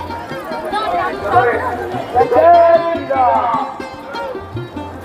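A huge early-morning crowd at a public gathering in Chalisgaon, steady babble of many voices filling the space at close range, with some clearer nearby talk rising above the hubbub.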